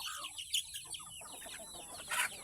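Chickens on a backyard farm cluck in short bursts, several soft calls spread across a couple of seconds with a louder cluck near the end, with no speech.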